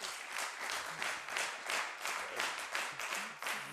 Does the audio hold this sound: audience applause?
yes